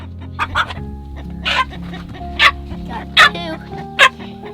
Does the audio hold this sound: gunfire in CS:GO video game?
no